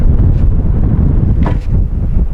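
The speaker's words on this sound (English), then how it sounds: "The wind is getting a little bit crazier now" Strong, steady wind buffets the microphone at a long-range rifle range, a loud continuous low rumble with brief swells and dips across the few seconds, no voices.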